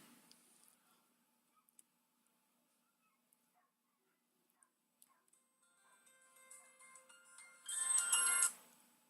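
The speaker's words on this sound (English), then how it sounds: "That in the background would be my phone." A mobile phone rings in the background of a quiet room, faint at first and then swelling into a louder, brief burst of ringing near the end, with a few scattered small clicks before it.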